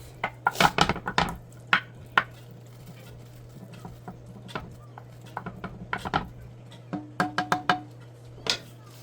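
Ground meat browning in a pan during budget meal prep, with scattered soft sizzles, pops and clinks of a utensil stirring against cookware, close and moderately quiet over a low steady hum.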